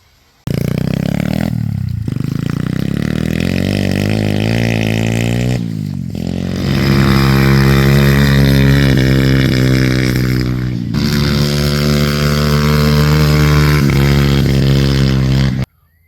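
Motorcycle engine revving up through rising pitch sweeps, dropping and climbing again, then settling into a loud, steady, rough roar nearby before cutting off.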